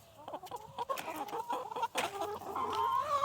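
Several backyard hens cluck and chatter close by, a busy overlapping run of short calls and murmurs that rises toward the end.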